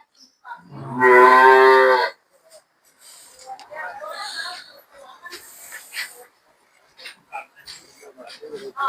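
A cow at a cattle sale lets out one loud, close, drawn-out moo lasting about a second, followed by people talking nearby and scattered background noises.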